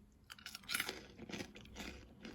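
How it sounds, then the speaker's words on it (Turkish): Quiet, close-up chewing of crunchy caramel-coated fruit-flavoured coloured popcorn, a steady run of crisp crunches and bites with no talking. "Yerken bilmiyorum duyuyor musunuz? Çıtır çıtır çıtır sesler geliyor."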